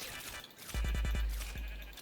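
Video game sheep bleat in a modded superhero game, several short, close, loud bleats in quick succession, then one more after a brief pause, with no talking.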